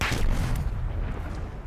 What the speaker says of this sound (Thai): โยนระเบิดไปทั่วเลย